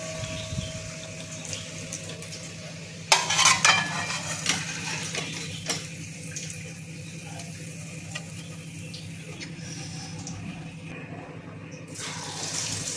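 Snacks deep-fry in oil until they turn reddish golden-brown, with a low constant bubbling sizzle and a louder splashy burst near the start, then a steady simmer for the rest.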